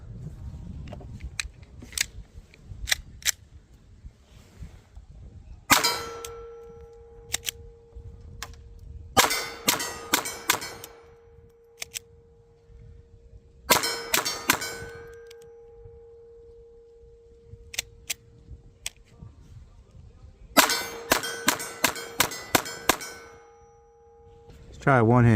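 Pistol shots ring out against a 16-inch steel gong at about 20 yards, each crack followed by a metallic clang and a sustained ringing tone. The shots come in several quick bursts separated by pauses.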